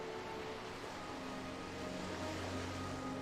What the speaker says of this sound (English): amidst the roiling waves of the Rotano Sea, lies the maritime city-state of Limsa Lominsa